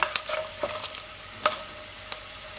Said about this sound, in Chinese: 全程一定要开小火慢炒，炒至各种调料微微变色